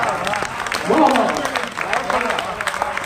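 Audience at a Hindi poetry gathering honouring a poet gives a modest round of applause, scattered clapping of moderate loudness with a voice speaking over it.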